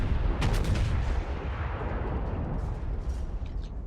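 The battleship USS Texas fires its guns in the naval video game World of Warships: a loud, dense rumble of heavy gunfire with several sharp blasts early on, then a sustained roar that slowly settles.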